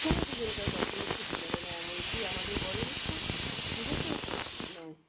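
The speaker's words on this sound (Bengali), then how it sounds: "এদিকে আমি একটু আলু সিদ্ধ করতে চাপিয়ে দিয়েছি" Potatoes boiling in a pot on a home stove give off a steady, loud steam hiss that runs almost unbroken for about five seconds, with faint clatter and rumble beneath it, before it cuts off abruptly at the end.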